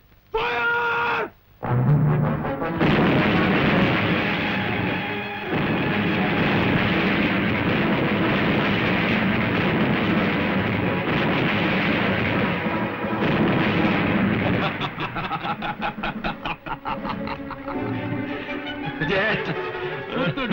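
Cannon artillery fire and explosions roar almost without pause, a dense and loud rumble with sharper blasts scattered throughout and a brief quiet gap near the start.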